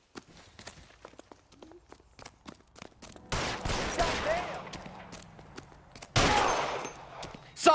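Gunfire in the PlayStation 5 game L.A. Noire: scattered sharp shots early, then a heavy burst of fire around the middle and another loud barrage near the end, with voices talking in between.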